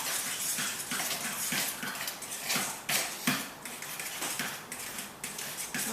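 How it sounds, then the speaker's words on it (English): Fork stirring banana bread batter in a bowl, a steady close run of wet scraping and clicking strokes with occasional louder taps against the side. "we stir again."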